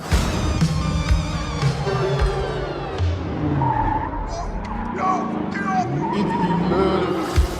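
A car skidding with tires squealing in repeated screeching bursts, engine revving underneath, loud and close, with voices talking over it.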